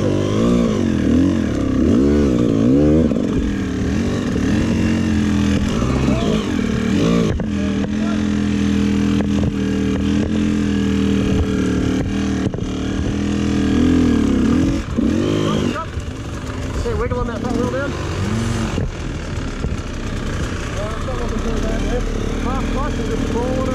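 An enduro dirt bike grinds up a rocky hard-enduro race climb, its engine revving and bogging in uneven surges close by while voices call out now and then over the noise.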